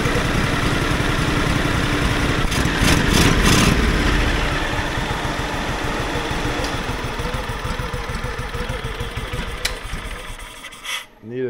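A Companion red golf cart on 35-inch Boggers tires idles low and steady, a loud, close, rough putter that rises briefly near the start, then settles before cutting off at the end.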